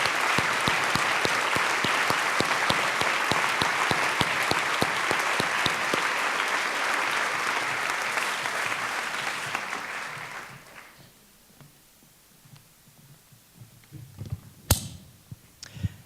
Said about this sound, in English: Please stand up and let's give all of these staff a round of applause.